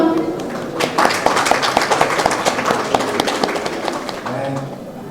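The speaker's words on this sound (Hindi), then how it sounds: "तालियां बजती रहनी चाहिए" Applause from an audience during a gift presentation at a painting exhibition, steady clapping with an overlaid hum of voices, fairly close and lively throughout.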